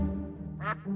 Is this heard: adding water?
no